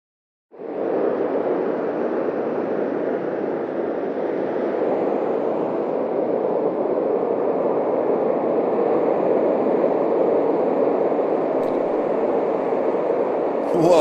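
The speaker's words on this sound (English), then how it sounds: "this is what it sounds like when you put your ear up to a hollow shell" A hollow chambered nautilus shell held to the ear gives a steady, even, ocean-like roar that starts abruptly and holds unchanged for about fourteen seconds.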